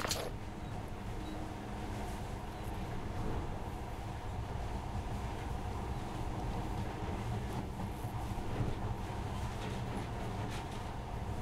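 A monorail train runs steadily through the game world of Metro Last Light, a continuous low rumbling drone with faint clatter holding at an even level, with no speech over it.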